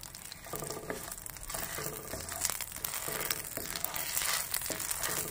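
Fennel seeds and two dried red chilies frying in hot ghee in a pan, giving a crackling, crinkly sizzle with a few faint stirring scrapes, continuous and close, with no voices.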